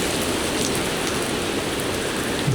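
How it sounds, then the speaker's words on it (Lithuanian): Heavy rain pours down outdoors in Lithuania, a steady, loud, unbroken wash of drops hitting surfaces from start to finish. "Vėl pila."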